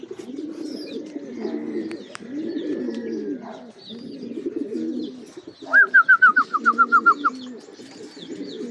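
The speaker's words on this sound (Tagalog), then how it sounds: "may ibon na tayo" A pigeon cooing nearby in rural Nueva Ecija, Philippines, with repeated low coos and one quick run of about a dozen rhythmic call notes partway through.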